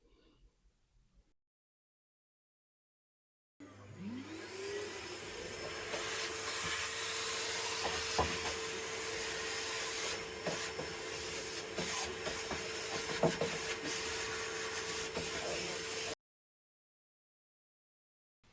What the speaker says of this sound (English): Just using my old favourite elbow grease here. Does a great job. It gets rid of a lot of the grime and grease.